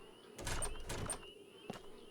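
A door being tried in the survival horror video game DreadOut: two rattling handle-and-latch knocks close together, then a fainter third tug, heard alone over a faint steady game hum.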